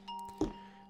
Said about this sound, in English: There's a doorbell.